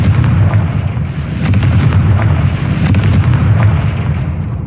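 The Confringo fire blast spell in a Harry Potter video game goes off as a dense, loud, continuous rumble of explosive booms with repeated bursts layered over one another, and no speech.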